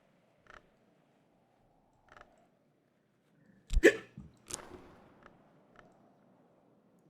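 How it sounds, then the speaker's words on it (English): Person hiccuping in a mostly quiet room, with a few soft hiccups spaced apart, then a louder cluster of sharp hiccups and gasps near the middle and faint ones trailing after. "Got the hiccups."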